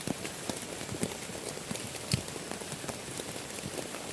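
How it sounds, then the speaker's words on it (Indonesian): Steady rain patters on a tent in a forest at night during a solo camping trip, a dense even hiss with scattered heavier drops tapping close by and no voices. "Memang hujan teman-teman."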